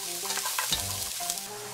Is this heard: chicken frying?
yes